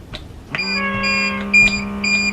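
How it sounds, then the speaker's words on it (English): An xCool laser level sounds a steady electronic alarm tone with a few brief higher beeps laid over it, close and fairly loud, while people move about nearby. "Jeff, turn off the device immediately when alarm sounds."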